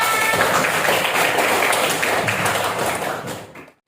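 Classroom 'tepuk salut' clap, a group clapping hands in a dense patter that fades out to silence after a few seconds.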